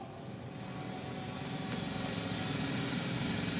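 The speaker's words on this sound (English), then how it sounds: "It's a drill." A drill running unattended in the sci-fi game The Invincible, a steady mechanical drone that holds level and continuous throughout, with no voices over it.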